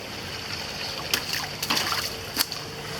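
Creek water flows and trickles steadily near a river, a continuous close wash with a few brief splashes and splatters standing out, no talk over it.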